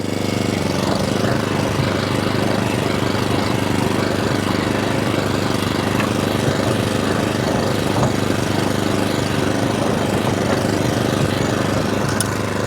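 Atco Balmoral 20S cylinder lawn mower running in a garden, its petrol engine giving a loud, steady, close drone throughout with no pauses or talking, the mower rolling along with its cylinder disengaged.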